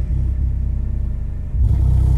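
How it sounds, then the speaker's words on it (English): Skar Audio SDR-15-D2 car subwoofer driven by a Taramps HD3000 amplifier playing indoors in a house, a deep, loud, pulsing bass rumble that swells even heavier near the end. "Let the house rumble a little bit more, because we're in the house right now. This is a car subwoofer."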